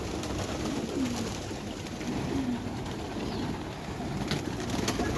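Pigeons coo softly in a low, repeated rolling call a few times over steady background noise in a farm shed, with no talking.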